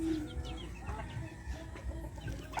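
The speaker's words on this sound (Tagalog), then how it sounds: "Yung mga manok ko" Chickens cluck softly nearby in short, scattered calls against a quiet outdoor background.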